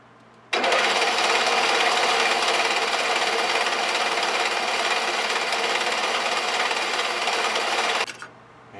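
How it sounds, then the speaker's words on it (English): A power drill whines steadily at close range for several seconds, starting abruptly and cutting off sharply. "Let's drill a hole"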